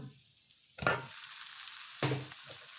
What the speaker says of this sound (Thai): ผัดให้หมูเกือบสุกค่ะ